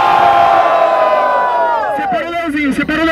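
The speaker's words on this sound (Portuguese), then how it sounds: "Barulho pras rimas do Leozinho" A crowd at a rap battle final roars with sustained cheering and shouting, loud and dense throughout, with a few voices calling out near the end.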